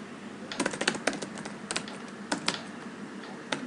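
Keys clatter on a computer keyboard as a router command is typed, with quick irregular clusters of crisp clicks, close and fairly loud, and short pauses between bursts.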